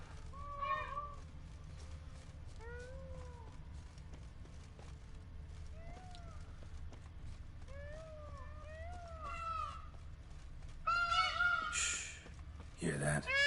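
Cats meow in The Witcher 3: Blood and Wine, a series of short, rising and falling calls repeating over a steady low ambient hum, with a brief rustling burst near the end.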